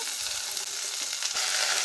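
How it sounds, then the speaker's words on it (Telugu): Cut okra fries in hot oil in a pan, a continuous close hiss of sizzling with faint stirring scrapes, steady and moderately quiet throughout. "బెండకాయలు ఇలా 2 నిమిషాలు వేయించుకోవడం వల్ల బెండకాయలో ఉండే తడి అంతా పోయి"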